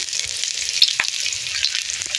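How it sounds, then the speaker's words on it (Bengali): Onions fry in a wok with oil and a bay leaf, giving a bright, continuous sizzle with occasional soft stirring clicks close by. "পেঁয়াজটা মোটামুটি ভাজা হয়ে গেছে"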